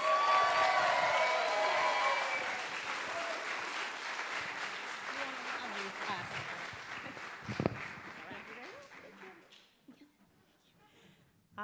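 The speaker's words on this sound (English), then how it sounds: "keep the applause going for Tracy Drain" An audience applauds as speaker Tracy Drain is welcomed to the stage at a live astronomy talk. Loud clapping fills the room at first, then slowly fades to scattered claps, with a few voices under it.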